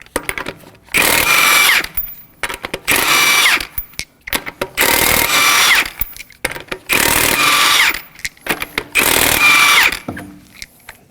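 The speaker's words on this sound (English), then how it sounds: "we're going to remove the lug nuts with a 19mm socket and your impact gun." Impact gun with a 19mm socket removing lug nuts from a 2014-2020 Acura MDX wheel, five loud sustained buzzing bursts of about a second each separated by short pauses.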